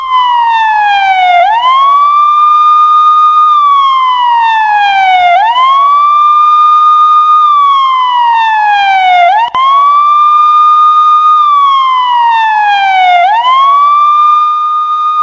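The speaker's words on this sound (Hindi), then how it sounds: "पाकिस्तान में चारों तरफ एम्बुलेंस की आवाज और एम्बुलेंस के सायरन गूंज रहा था।" An ambulance siren wails continuously, its pitch sweeping down then rising again in a steady repeating cycle, loud and close with no other sounds.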